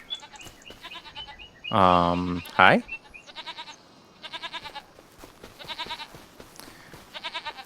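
Several short, nasal bleats from penned goats on a Farming Simulator 25 farm come in evenly spaced bursts. A brief loud spoken word cuts in near the start, then the bleating carries on alone.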